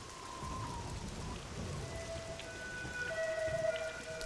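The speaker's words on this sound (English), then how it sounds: "It's raining." Steady rain in a video game patters and hisses on surfaces, with faint tonal beeps layered over it toward the end; no one speaks.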